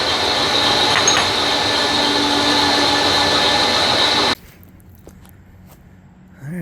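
Machining of inserts for a 1969 VW Bus engine and transmission cradle gives a loud, steady mechanical whir that cuts off abruptly partway through, leaving a quieter room with faint knocks.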